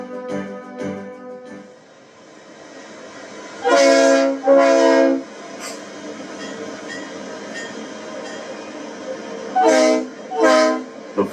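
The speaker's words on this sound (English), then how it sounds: "3751 and her train emerge from the fog to begin the run to Kansas City, Missouri." Steam locomotive 3751 and her train run toward Kansas City on a foggy morning, two pairs of loud horn blasts sounding over a steady rumble of the moving train.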